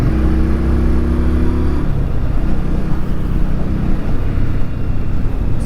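A 2019 Indian Scout Bobber motorcycle rides along with a loud engine drone that drops in pitch partway through as it shifts down a gear, masked by heavy wind buffeting.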